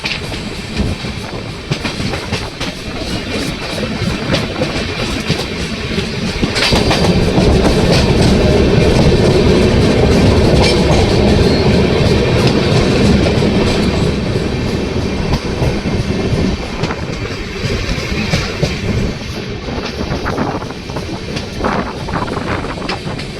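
A passenger train rolls into Koduru railway station on the main line, its wheels clattering steadily over rail joints with a swelling rumble in the middle, close and loud, with no voices.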